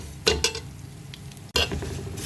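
Food sizzles in a pan with a few sharp scraping stirs while sautéing aromatics for lentil soup, and a louder burst of frying near the end.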